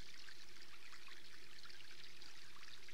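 A small trickle of flowing water, a faint, steady, soft hiss of gentle running water with no other sounds.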